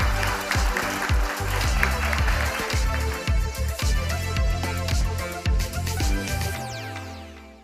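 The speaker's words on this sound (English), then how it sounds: "Let's give her a big round of applause once more." A conference audience breaks into prolonged applause, a dense, uneven clatter of clapping from a crowded hall, rising and falling before fading at the end.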